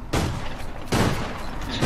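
Two loud, close gunshot blasts in the online shooter APB Reloaded, spaced under a second apart with ringing decay and no talking.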